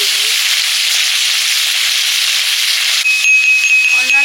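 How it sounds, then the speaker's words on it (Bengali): Snakehead (shol) fish frying together in a pan over low heat, giving a loud, steady sizzle and hiss throughout, with a few faint clinks near the end. "এই জন্য একসঙ্গে সব মাছ দিয়ে দিয়েছি, একসঙ্গে ভাজা হয়ে যাবে"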